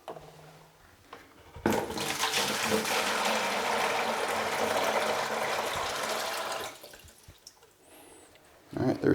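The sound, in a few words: water being poured into a clay slip bucket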